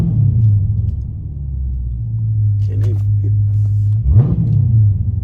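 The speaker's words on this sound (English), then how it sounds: "Okay, so let me hit the gas." A Dodge Charger Scat Pack's engine rumbles low and steady up close, with a brief rise in revs near the end as the throttle is pressed, while people talk over it.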